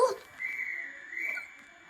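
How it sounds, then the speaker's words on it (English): A train guard's whistle gives a long, steady high-pitched blast lasting nearly two seconds, loud and close, with a slight wavering in the middle. "We've got the guard whistle,"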